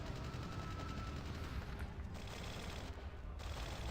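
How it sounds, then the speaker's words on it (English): Rapid gunfire bursts and explosions from a video game rattle in dense, continuous volleys at moderate loudness, with brief dips between flurries and no talking over them. "What's with all the sounds of explosions and gunfights?"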